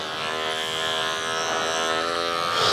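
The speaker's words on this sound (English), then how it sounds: "I'm going to start using my clipper over comb to start refining some of these heavier areas" An electric hair clipper buzzes steadily and close up during a clipper-over-comb cut on a man's classic fade in a barbershop, with a constant droning hum and no talking.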